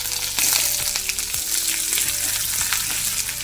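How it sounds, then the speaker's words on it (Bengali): Chopped onions fry in hot oil with whole cumin, a dried red chilli and curry leaves, a loud, steady sizzle broken by a few low clunks of stirring, with no voices. "আর গোটা জিরে কয়েকটা কারি পাতা দিয়ে দিলাম এবার কেটে রাখা পেঁয়াজ দিয়ে দিচ্ছি"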